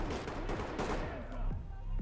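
Gunfire in the tactical shooter Ready or Not, a rapid string of sharp reports and bursts cracking through the whole stretch, close and punchy, with a faint voice underneath.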